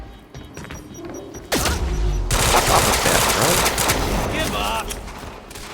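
Gunfire in the video game Quantum Break: after a quiet stretch, a sudden sustained burst of automatic fire and crashing impacts erupts loudly and continues for several seconds, with shouted voices over it.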